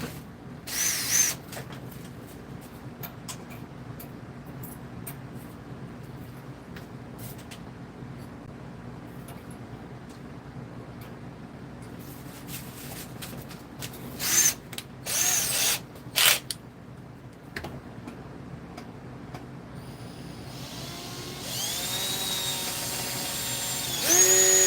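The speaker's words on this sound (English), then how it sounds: "if I drill a hole in the side of that" A power drill whirs in several short bursts, separated by quiet stretches, ending in a longer steady high-pitched run close by.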